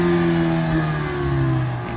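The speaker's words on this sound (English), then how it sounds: "Sounds like just a generic, yeah, 4-cylinder turbo." A 2022 Ford Mustang EcoBoost with a turbocharged four-cylinder engine revs outside the car, its steady mid-pitched drone rising and falling slightly, loud and close with no one talking.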